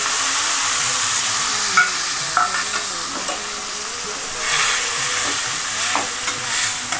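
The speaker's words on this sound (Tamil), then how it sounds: "தக்காளி போட்டு தக்காளி வந்து நல்லா கூழு மாதிரி ஆகிற வரைக்கும் நல்லா தாளிச்சு விடுங்க" Tomatoes sautéing in a pan with chillies and curry leaves, a bright steady sizzle with occasional stirring scrapes and small pops, close and alone.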